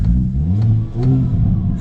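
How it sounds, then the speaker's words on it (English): A 2023 Hyundai Kona N in N mode revs with its exhaust open: a loud, close, throaty engine rumble rising and falling over about two seconds. "It sounds a lot louder with that exhaust open"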